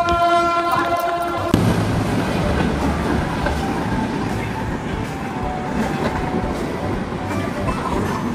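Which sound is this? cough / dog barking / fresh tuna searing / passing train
passing train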